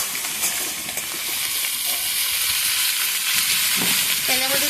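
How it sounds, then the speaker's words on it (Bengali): Spiced chicken pieces, marinated with meat masala, fry in very hot oil, giving a loud, steady, close crackling sizzle with occasional stirring clinks toward the end. "এবার এগুলো সব তেলের মধ্যে দিয়ে দেব।"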